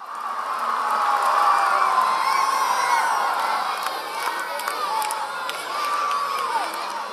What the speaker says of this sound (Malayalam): ഫിനിഷിംഗ് ലൈനിലേക്ക് താരങ്ങൾ കുതിക്കുമ്പോൾ എഴുന്നേറ്റ് നിന്ന് കൈയടിച്ച് പ്രോത്സാഹിപ്പിക്കും.